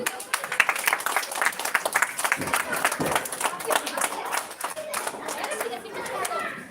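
Audience claps in a dense, steady burst of applause at a high school ceremony to welcome the guest inaugurator, with crowd chatter running underneath throughout.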